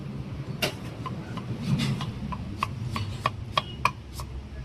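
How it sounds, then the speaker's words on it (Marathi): Knife chopping red onion on a board at a busy street food stall selling onion bhaji, a run of sharp, evenly spaced chops over a low, steady background din. "आणि आता लाल इकडं कांदा कापत आहे बघू शकता."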